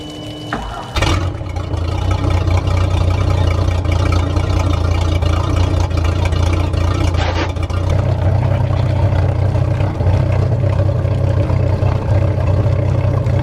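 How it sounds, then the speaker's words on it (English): A steady, low rumble from a boat's Mercruiser 4.3 inboard engine runs continuously after a brief bump at the start, idling evenly with no speech over it. "Drop your motor down, crank it up,"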